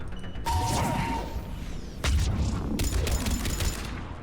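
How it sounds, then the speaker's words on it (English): Gunfire in the video game Mass Effect 3, bursts of weapon fire and heavy impacts with mechanical clatter, loud and continuous in a chaotic battle mix. "everyone shoot it with stuff"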